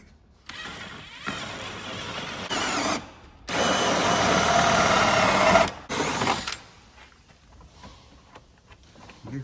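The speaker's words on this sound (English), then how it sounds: "Right, so I let Ben quickly drill the rest of them." Power drill boring holes in the splitter of a Renault Clio race car: several bursts of high whirring, one long run in the middle, separated by pauses in a garage, with faint background sounds afterward.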